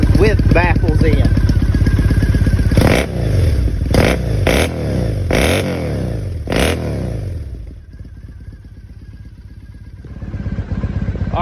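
Triumph Thruxton 900 motorcycle with a Bassani exhaust fitted with baffles, idling with a burbling beat, then blipped through five sharp throttle revs that rise and fall quickly, settling back to a lumpy idle, loud and close.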